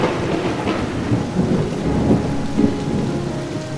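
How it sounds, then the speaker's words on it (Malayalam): Heavy rain pours steadily while rolling thunder rumbles low and loud beneath it, a dense continuous storm with no voices. "അതിശക്തമായ മഴയോടൊപ്പം കാറ്റും ഇടിയും മിന്നലും കൂടി തുടങ്ങി."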